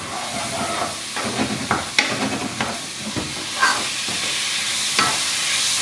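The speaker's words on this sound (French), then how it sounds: "Je vais venir bien mélanger tout ça." Meat seasoned with cinnamon is stirred in a hot pan, a steady close sizzle and hiss broken by irregular scraping strokes of the utensil.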